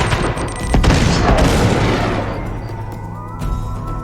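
A bomb blast in the handheld action game Uncharted: Golden Abyss, a loud booming burst layered with gunfire that swells early, then rolls off into a lingering rumble before a smaller thump near the end.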